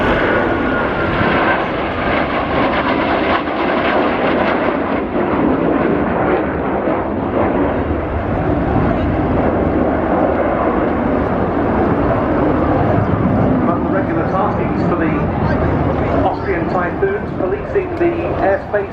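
Military jet roaring through an air-to-air combat roll display at the RIAT air show, a loud, continuous engine rumble and whine that swells and shifts as it passes, with a commentator talking over it.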